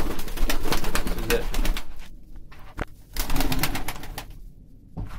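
Pigeons coo inside a crowded coop in Antalya, their repeated low calls close and overlapping amid flutters and shuffling, with a brief spoken word partway through.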